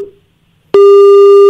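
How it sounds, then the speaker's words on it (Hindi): Loud steady telephone busy tone sounds after a call disconnects: a brief faint beep, a short silence, then a sustained harmonic electronic tone lasting almost a second, alone with no voices. "कपिल श्रीमाली का फोन डिस्कनेक्ट हो गया"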